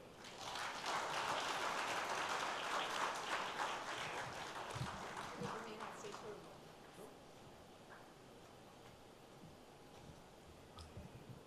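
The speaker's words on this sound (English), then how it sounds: "Can we have a big round of applause, ladies and gentlemen, for Dr. Tharoor" Conference audience applauding after Dr. Shashi Tharoor's keynote, a distant, fairly faint wash of many hands clapping for about six seconds before it tapers into quiet room noise.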